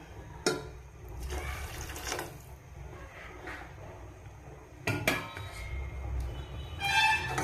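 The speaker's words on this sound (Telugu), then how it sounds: "కొంచెం వాటర్ వేద్దాం" Water is poured into a pan in a few short splashing bursts, fairly quiet, with soft gurgling between pours.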